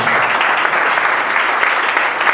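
A church congregation gives the Lord loud applause, dense, continuous clapping filling the room, close and energetic without a break.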